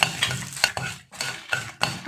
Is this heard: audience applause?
no